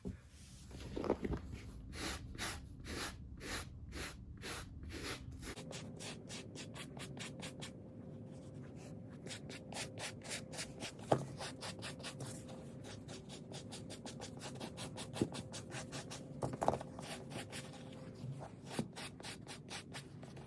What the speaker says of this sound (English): I just finished brushing the shoe with the medium bristle brush